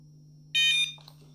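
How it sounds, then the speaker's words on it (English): A Nash Siren RS-1 carp fishing bite alarm gives its confirmation signal: one short, loud, piercing electronic beep, then a softer, lower blip right after, over a faint steady hum. "hold down power and I'll get a couple of confirming beeps."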